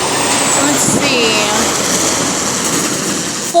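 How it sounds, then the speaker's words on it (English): At night a large truck drives past close by, a loud, sustained engine roar and road rumble that stays heavy for several seconds before a sudden thump at the end. "That's a large truck, as you can hear."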